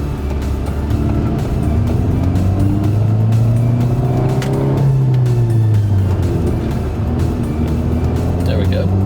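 Car with a manual transmission pulling through first and second gears, steady engine drone rising in pitch, dipping at the shift, then climbing again beneath a person talking.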